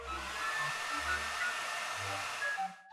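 A hair dryer runs steadily at close range, blowing over a drawing on a notebook page, then clicks off near the end.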